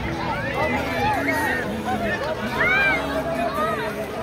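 A dense crowd of pilgrims at the Sangam during Mahakumbh 2025 fills the air with constant babble, overlapping shouts and calls, and a nearby voice talking over the hubbub.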